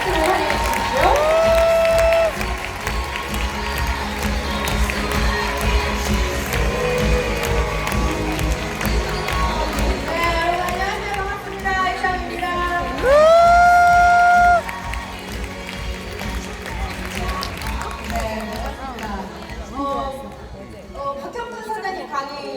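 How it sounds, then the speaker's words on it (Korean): A corporate kickoff event crowd welcomes a speaker with applause and cheering. Loud upbeat music with sliding tones plays over the clapping, and crowd voices and shouts come and go across a long stretch. "여러분 큰 박수로 환영해 주십시오."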